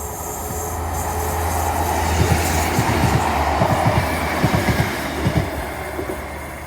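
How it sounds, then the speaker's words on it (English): A train rolls past along the Teignmouth seawall railway, its steady rumble carrying rhythmic clickety-clack wheel beats on the rail joints, fairly close and loud, with a faint trickle of water underneath. "we've also got a special guest in the form of a train. Hello, train."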